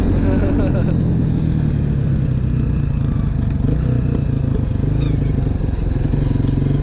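A motorcycle engine runs while riding along a snowy road, a loud, close, steady rumble with clattering mechanical texture that holds without letup from start to finish.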